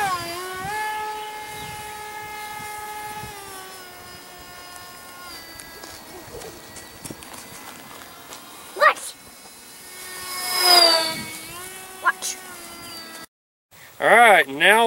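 Electric motor and propeller of a foamboard RC plane at full power, a steady high whine with stacked harmonics that holds, then rises and swells loudly before cutting out briefly and returning.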